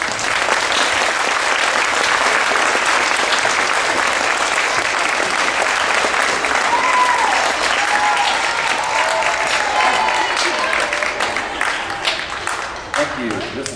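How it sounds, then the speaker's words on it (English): Audience applause for a school beginning band at a winter concert: sustained, dense clapping from a large crowd, fading slightly toward the end, with some voices and cheers mixed in. "a big round of applause for Mr."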